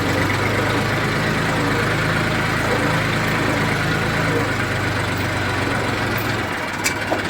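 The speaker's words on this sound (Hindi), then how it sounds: "ये चल रहा है ट्रैक्टर," A Massey Ferguson 1035 tractor idles steadily just after gearbox repair, a close, loud, continuous diesel rumble with an even throb that barely changes for several seconds before a small knock near the end.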